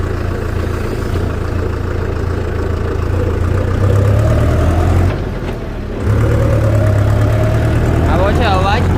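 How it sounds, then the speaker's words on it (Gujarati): A Farmtrac 6055 WordMaxx 4WD tractor engine runs steadily in third gear during a road test: a loud, continuous low diesel drone with a brief dip in the middle, then a further stretch of rumble. "હાવ સાયલેન્ટ ટ્રેક્ટર છે,"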